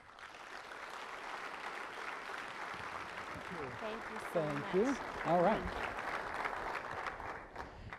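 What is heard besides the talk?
audience applause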